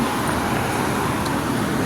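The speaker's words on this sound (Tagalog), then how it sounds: "Maraming sasakyan dito." Road traffic at night with many vehicles passing: a dense, steady roar of engines and tyres that fills the scene without a break.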